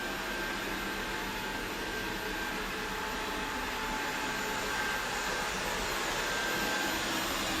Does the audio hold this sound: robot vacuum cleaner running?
yes